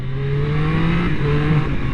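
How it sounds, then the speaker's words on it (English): Triumph Street Triple 765 R motorcycle engine pulling steadily under acceleration with quick-shifter changes, a continuous close, loud drone with shifting tones and no talk. "the quick shifter is really nice and smooth on this bike."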